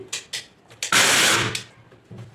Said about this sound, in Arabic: هبدا بقى كده ان انا افرمه،